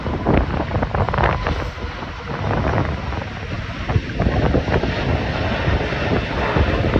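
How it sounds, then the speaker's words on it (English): A British Airways Boeing 777-200 arrives at Heathrow, its jet engines a loud, continuous roar mixed with gusting wind buffeting the microphone. "British Airways 777-200, and that is coming in from Orlando."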